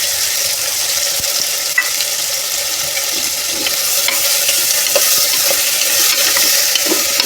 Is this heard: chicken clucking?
no